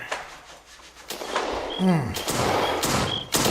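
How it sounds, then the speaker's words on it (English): Several sharp cracks of gunfire ring out at moderate distance over a city in a radio drama, with a muffled thump and a sweeping whine amid general commotion and background voices. "Can't you hear why, Jim? Wow. Gunfire"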